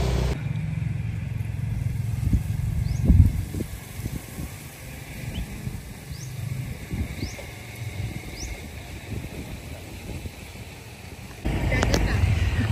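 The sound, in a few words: riding a motorcycle through the village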